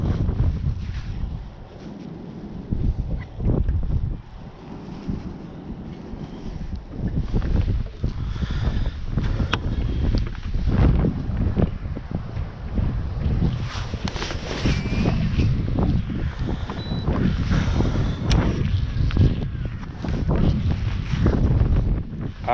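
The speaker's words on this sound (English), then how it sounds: "so I did not dress for this much wind." Strong wind buffets a fishing boat out on the water, roaring loudly and continuously into the microphone in gusty surges, with faint water and hull noise beneath.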